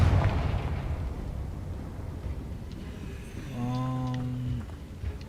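A Confringo spell goes off in Hogwarts Legacy, a fiery burst with a low rumbling boom at the start followed by a sustained tonal magical hum that swells and fades, no talking over it.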